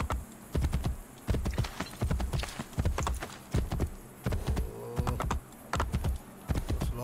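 Horse hooves clip-clop at a steady gallop in Assassin's Creed Brotherhood, a rapid rhythmic patter of close, crisp hoofbeats running the whole stretch with a faint background hum.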